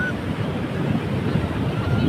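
Sea waves wash at Munage beach, a continuous loud rumbling surf mixed with gusting wind on the microphone, with no pauses across the short stretch.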